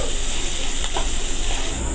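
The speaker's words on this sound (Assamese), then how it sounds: "এনেকৈ চব্জিখিনি অকণমান ভাজি ল'লোঁ" Vegetables mixed with coriander powder and turmeric frying in a pan, giving a steady, close hiss and sizzle that runs unbroken throughout.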